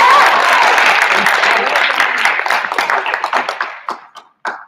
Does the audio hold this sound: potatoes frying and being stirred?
no